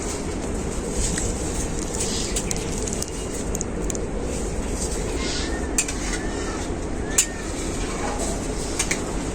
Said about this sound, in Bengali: কাজু আর কিশমিশ দিয়ে হালকা নাড়াচাড়া করে নিলাম